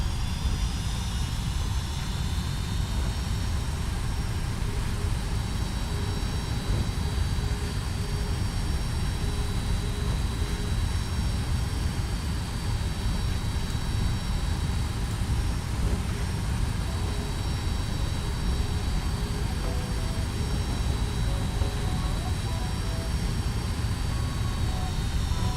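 A FlightFactor Boeing 757 freighter in UPS operations taxis in X-Plane 11 on a sunny day in Southern California, its jet engines holding a steady, loud whine and rumble with no breaks for the whole stretch.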